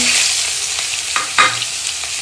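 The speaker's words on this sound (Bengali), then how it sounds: "আগে আমি দিয়ে দিয়েছিলাম কালো জিরে আর দিয়ে দেবো এখানে পেঁয়াজ" Onion frying with black cumin seeds in an old wok, a dense close sizzle with a couple of soft stirring scrapes, brief and steady.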